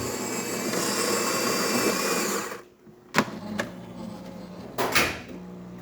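A Jura espresso machine brewing espresso hums steadily for a couple of seconds, then cuts off, followed by a few sharp clicks and knocks in a quiet room.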